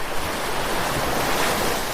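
Sea surf rolls onto the undeveloped shore of Estanza Beach in Lingayen, Pangasinan, a loud, broad wash of breaking waves mixed with gusting wind buffeting the microphone, continuous with no voices.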